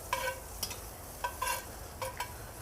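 Butter melts in a preheated Dutch oven, a faint sizzle broken by several soft scraping swirls of the pot spaced out over a few seconds.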